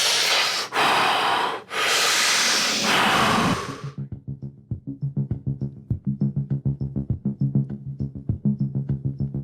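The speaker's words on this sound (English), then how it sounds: "I start breathing." Heavy breathing during a morning wake-up routine: a few seconds of loud, broad rushing breaths close to the mic, then a fast rhythmic run of short puffing exhalations that repeat steadily to the end.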